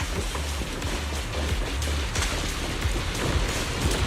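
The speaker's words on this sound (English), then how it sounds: "The wind and rain are picking up." Wind and rain in the video game Zenless Zone Zero make a dense, constant hiss of rainfall with gusty rumble underneath, loud and steady throughout.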